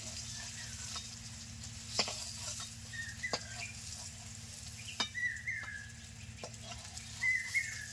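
Bata fish sizzle softly in oil in a kadai, a faint, steady frying hiss with occasional light clinks and birds calling in the background.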